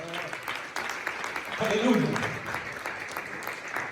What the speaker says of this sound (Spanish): Dele palmas a Jesús.